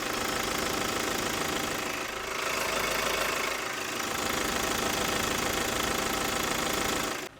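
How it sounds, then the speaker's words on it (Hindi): A 2000cc four-cylinder turbo diesel engine in a 2026 MG Majestor SUV idles up close, giving a loud, steady rumble with a clattering diesel knock that runs throughout, with no talking. "यहाँ पर आपके सामने जो 2000 सीसी का टर्बो डीजल इंजन है वो आप देख पाएंगे।"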